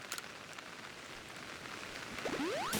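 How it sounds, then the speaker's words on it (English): Steady rain in Pokémon Legends: Arceus, a continuous soft hiss of falling drops at moderate level, with a few brief rising chirps appearing near the end. "Resting just a little while does not clear the rain."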